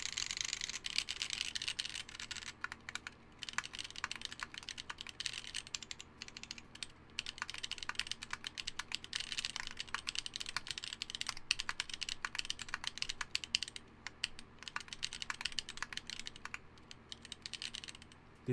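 A mechanical keyboard with SA profile keycaps is typed on steadily for a long run, giving dense, fast, close clacks with no talking.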